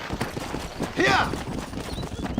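Horse hooves clip-clop in the Red Dead Redemption video game, a steady rapid patter under a busy mix with a voice calling out mid-clip.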